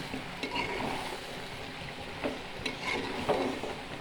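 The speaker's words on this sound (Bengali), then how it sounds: "দেখুন সিম ভাজি করতে হবে" Flat beans (sim) frying in a pan and being stirred, a steady soft sizzle under scattered scraping taps of a spatula, close and fairly quiet.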